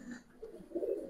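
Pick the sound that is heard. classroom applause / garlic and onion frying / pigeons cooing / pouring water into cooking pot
pigeons cooing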